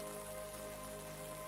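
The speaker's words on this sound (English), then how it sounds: "The rain continues, tap, tap, tap" Rain falling and tapping on a roof, a steady soft patter with a faint tonal hum running beneath it, quiet and continuous with no voices.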